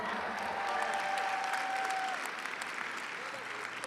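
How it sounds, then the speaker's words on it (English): A crowd at a charity gala claps for an honored guest, continuous applause filling the room at moderate level, with a brief whistle-like tone over the first half before the clapping thins slightly. "Round of applause for Varun."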